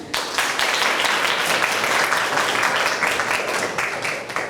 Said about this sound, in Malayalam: പകുതി എത്തിയപ്പോഴത്തേക്ക് നിന്ന് എവിടെ ഒന്നുകൂടെ നോക്കട്ടെ, കയ്യടിച്ച്.